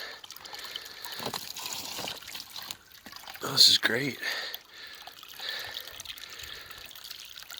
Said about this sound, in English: And because this water is moving, it shouldn't freeze.